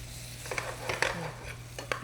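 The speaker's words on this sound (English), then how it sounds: "As we cook the pineapple and it starts to release its juices, it will combine with the sugar and the butter and to create the sauce" Pineapple cooks in a pan with sugar and butter, making a soft sizzle under scattered utensil scrapes and clinks as the fruit is stirred and shaken. The sounds are close and fairly quiet.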